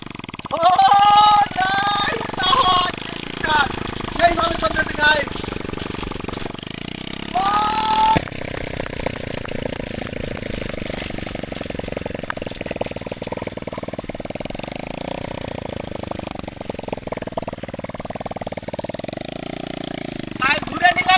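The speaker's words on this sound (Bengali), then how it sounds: "গাইস এই সাউন্ড এটা সাইলেন্সার নাই তো, সাউন্ড করতেছে।" Motorcycle engine without a silencer running on a homemade three-wheeler, a loud, rough, continuous mechanical roar with a revving stretch early on that settles into a steady running drone, fairly close.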